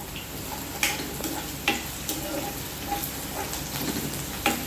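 Curry leaves sizzle and crackle steadily in hot oil, with occasional sharper pops and a few stirring scrapes, close by and with no talking.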